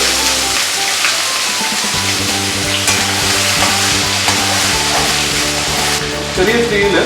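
Crushed garlic and ginger hitting hot coconut oil with popping mustard seeds, a loud, close, continuous sizzle and crackle with stirring, over a steady humming background.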